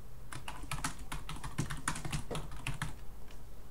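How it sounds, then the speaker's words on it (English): A name is typed on a computer keyboard, a quick, uneven run of close, crisp key clicks with no one speaking. "double click on the icon and type a name"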